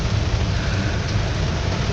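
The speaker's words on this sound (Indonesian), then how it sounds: "Wah, ternyata yang katanya tadi tidak hujan di sini, ini ada hujan." Steady rain falls outdoors at a work site, a dense continuous hiss with a low rumble underneath, loud and even throughout with no voices.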